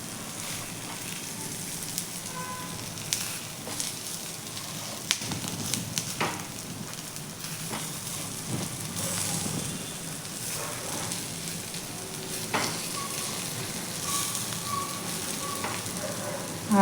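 Vegetable cheese cutlets frying in a pan over a medium gas flame, a dense continuous sizzle with crackling bursts and occasional clicks and scrapes as they are turned, with no voices.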